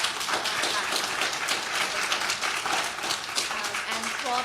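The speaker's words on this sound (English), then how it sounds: "another big round of applause" A conference audience breaks into applause, dense steady clapping from many hands filling the room at fairly loud, close level, with a voice briefly audible beneath it.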